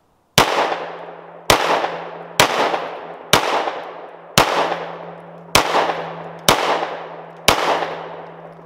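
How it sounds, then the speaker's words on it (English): Eight sharp gunshots from a 9mm firearm hit a metal burn barrel drum outdoors, each crack ringing with a metallic clang and a humming tail, evenly spaced about a second apart and loud. "I'm just shooting a drum, but I'm not shooting it the place that I wanted to shoot it."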